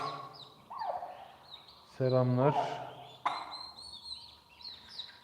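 Turkeys near a caretaker being fed boiled eggs give a short rippling gobble in the middle, with softer bird calls and chirps around it and a voice talking briefly.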